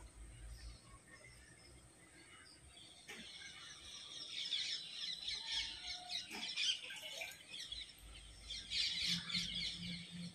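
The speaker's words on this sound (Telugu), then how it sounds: "కొంచెం చిన్న చిన్న పిచ్చుకల అరుపులు కూడా వినిపించాయి కదా." Small sparrows chirp and squawk faintly and in scattered bursts in a rural village setting, over low steady background noise, with the calls growing somewhat busier midway through.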